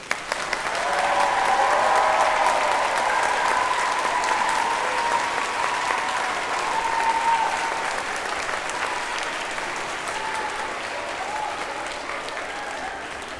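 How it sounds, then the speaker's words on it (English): Loud sustained applause from a large audience at a children's singing event honoring their teachers, a thick wash of clapping with faint voices and cheers that gradually eases off. "So I think you owe your teachers a massive round of applause."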